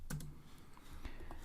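A few quick keystrokes tapped out on a computer keyboard while code is entered, irregular clicks close to the mic over a quiet room.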